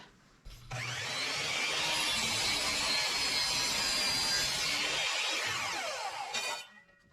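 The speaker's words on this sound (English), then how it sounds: "I'll take that to the miter saw and we'll get that cut." A miter saw slices through a wooden board for a bird feeder roof, one long, steady, loud cut of about six seconds with a rising whine at the start and winding down at the end, no talk.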